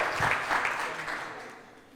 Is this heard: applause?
yes